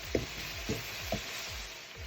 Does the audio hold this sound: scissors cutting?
no